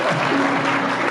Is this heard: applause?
yes